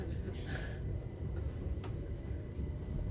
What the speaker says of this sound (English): So we're on the train now back to Ellie's house.